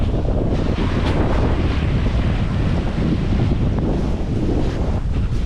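Steady wind buffets the microphone over continuous surf at a clear-water seashore in Sarangani, a loud, unbroken roar with no voices.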